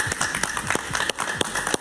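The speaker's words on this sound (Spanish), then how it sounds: "Un aplauso para el capitán, por favor." TV studio audience clapping during an evening talk show, a short burst of individual claps with distinct percussive hits rather than a dense crowd roar.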